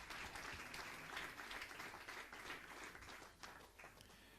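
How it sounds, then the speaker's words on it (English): Spectators applaud the seventh-placed shooter from Ukraine at a mixed 10 m standing air rifle final, soft distant clapping that runs steadily and tapers slightly toward the end. "Big applause for the 7th place representing Ukraine, Vitaly"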